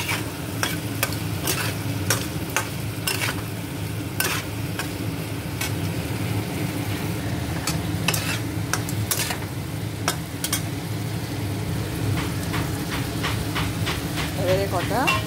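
Ginger and tomato fry in a pan with a steady sizzle, broken by sharp clicks of a spoon stirring and scraping, close and fairly loud throughout.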